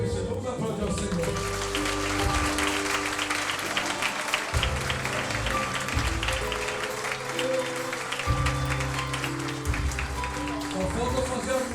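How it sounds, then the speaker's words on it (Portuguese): Congregation applause at a family worship service, clapping running steadily beneath loud music with a strong bass line and background voices throughout. "Vamos aplaudir ao Senhor"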